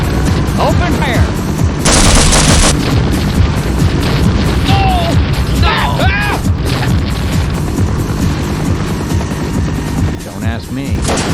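Half-Life game sound effects of rapid gunfire, machine-gun bursts and booming explosions laid over a war-film helicopter assault scene, loud and dense throughout with shouting voices mixed in.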